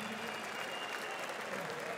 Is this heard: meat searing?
no